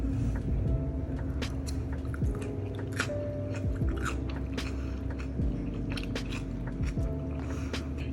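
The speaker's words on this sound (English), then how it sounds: "I just want you to listen to the crunch in this lunch" Close-up crunching and chewing of crisp food, repeated bites crackling over a steady low background hum.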